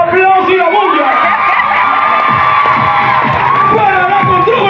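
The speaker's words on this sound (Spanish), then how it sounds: "Aplausos y la bulla" Cheering crowd at a school party, with children shouting and whooping in a loud, continuous mass of voices, while an announcer's voice carries over the top.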